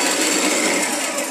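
A steady, loud mechanical whir from a hoist motor lowering a load on a chain, continuous and close with no pauses.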